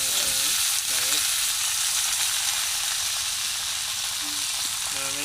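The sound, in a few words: potatoes frying in oil in a wok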